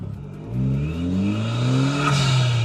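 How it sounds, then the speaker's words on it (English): Ariel Atom 4 turbo engine pulling away from a traffic light, a loud close engine note rising steadily in pitch through the gears with a whistling turbo whine above it, alone with no talk. "So pulling away from a traffic light, and I'm just doing 30 miles an hour. That turbo is noisier."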